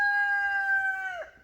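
Rooster crowing once nearby, a long clear tonal call that holds steady and then drops off at the end, with no voices over it.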